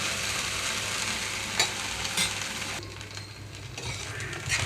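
Cut okra (bendakaya) fries uncovered in an open pan, salted and nearly done, giving a steady close sizzle with a few brief stirring scrapes.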